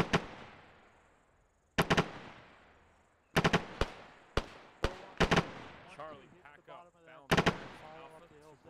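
A machine gun in ArmA 3 fires in short, loud bursts of quick cracks separated by pauses, each ringing out with a long echo, while radio chatter comes in briefly between the bursts.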